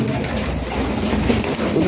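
Pigeons coo softly amid a busy, noisy background, the low murmuring calls faint and continuous over the short stretch.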